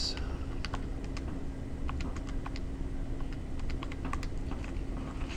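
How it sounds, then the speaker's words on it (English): Numbers tapped into a calculator during a log-base math problem, a quick scatter of light, close plastic key clicks over a faint steady hum, with no talk. "So type that in the calculator."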